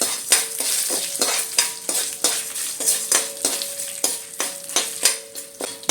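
Dried red chillies, broken in two, fry in a pan for a Malayalam piranda chammanthi side dish, sizzling steadily while a spoon scrapes and stirs in a regular rhythm of sharp clinks, close and fairly loud.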